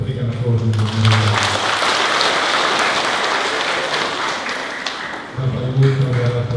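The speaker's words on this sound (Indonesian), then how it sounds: "Kita berikan aplaus untuk mereka." Congregation at a Catholic Good Friday service applauding the liturgy team and choir: a sustained, dense wash of clapping lasting several seconds, filling the church between brief stretches of music or voices at the start and end.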